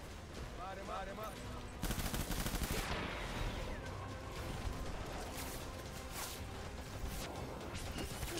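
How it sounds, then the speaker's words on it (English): Rifle fire in Death Stranding, sharp gunshots ringing out one after another in bursts with mechanical clatter and whooshes in between, loud and close. "Really a slow firing rifle."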